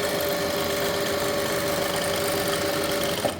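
A sewing machine runs steadily, stitching elastic onto a palazzo, with a continuous close, even whir for a few seconds and a brief knock near the end as it stops.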